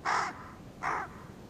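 Two loud, harsh caws from a raven in the Carpathian mountains, evenly spaced about a second apart, close and clear with no other sounds.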